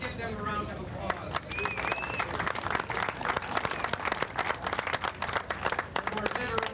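A crowd applauds volunteers at a 1995 ASA 40-and-over national softball championship, with scattered outdoor clapping and a voice speaking underneath.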